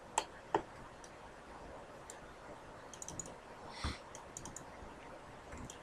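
Computer mouse clicks during 3D modeling work, sparse sharp double clicks and single taps scattered across a quiet room, close and light, with no talk.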